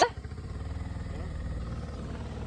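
A motorcycle engine runs nearby with smoke coming from its silencer pipe, giving a steady low chugging idle with a regular pulse after a brief sharp clatter at the start.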